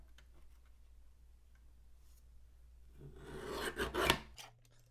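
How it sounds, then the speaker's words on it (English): Guillotine paper trimmer cutting cardstock, a faint quiet stretch followed by a short rasping slide of the blade and a couple of soft clicks near the end. "Then I'm going to bring that guillotine trimmer back in and then cut that down."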